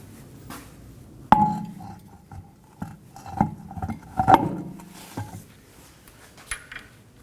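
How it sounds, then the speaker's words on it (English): Car wheel going back onto a Nissan Maxima, with scattered metallic clinks and knocks of lug nuts and hardware against the hub, fairly close and irregular, with one sharper ringing tap near the start. "Now let's reinstall our wheel."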